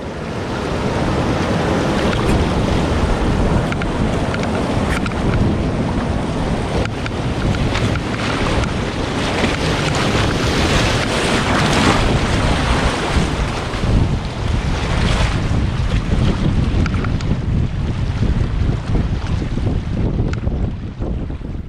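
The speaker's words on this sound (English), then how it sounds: "we could hear the roar of big water ahead" Big river rapids on the White River in Ontario roar ahead of paddlers as a steady, broadband wash of rushing water. It stays loud and unbroken for over twenty seconds, roughened by wind buffeting, with no voices.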